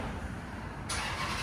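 A Chrysler 300C with a 5.7L HEMI V8 and a Flowmaster Super 10 exhaust gives a brief, steady, deep engine rumble, close and continuous, with no talking.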